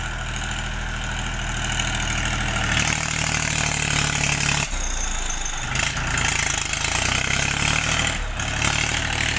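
A dump truck's diesel engine rumbles loudly up close in an open field, idling with a deep throb, then revving up and dropping back several times.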